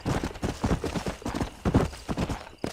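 Horse hooves from the western game Red Dead Redemption 2 clop steadily in a quick trotting rhythm, close and prominent throughout, a continuous run of dull thuds with no voices on top.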